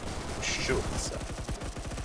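Rapid, sustained automatic gunfire in the first-person shooter game Phantom Forces, a steady stream of close shots crackling continuously over game background noise, with a voice talking over it.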